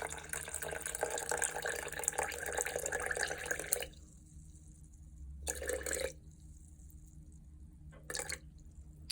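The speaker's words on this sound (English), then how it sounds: "we're going to do 150 grams of water in here, so just be careful" Water pours from a tap into a container for sourdough starter, a steady splashing stream that stops, then resumes in two short bursts, fairly close, with a low background hum.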